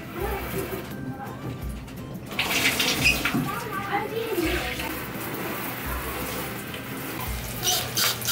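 Water runs steadily into a bathtub during a scrub-down, a continuous hiss and splash that swells partway through, with a child and an adult talking over it.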